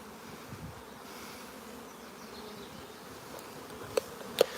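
Honeybees buzz around hives during a nuc transfer at a busy colony, a steady low hum with a couple of sharp clicks near the end.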